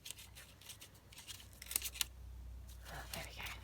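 Scissors snip through 12x12 paper in a few quiet, crisp cuts, with faint rustling and soft talk nearby.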